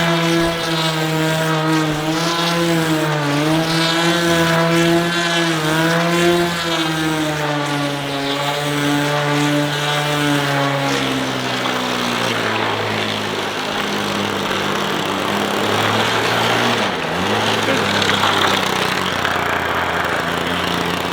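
A tiny 1.5 cc model car engine starts and runs steadily with a loud, buzzing two-stroke drone whose pitch rises and falls as it revs, continuing alone for the whole stretch.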